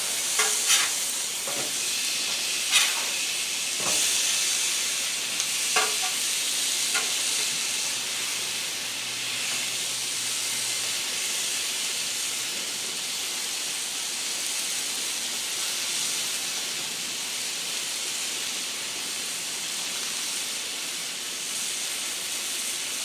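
N.Y. strip steaks sizzle on a Blackstone griddle in a steady hiss. A few sharp scrapes and clacks come early as the steaks are flipped, and then the sizzle carries on alone.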